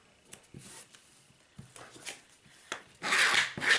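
Soft, scattered rubbing strokes come from burnishing a folded canvas hinge for a mini album, close and quiet, ending with a louder, longer scraping rub.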